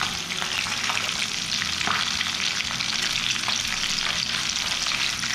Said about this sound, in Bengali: মাছটা এক পিঠ ভাজা হয়ে গেছে,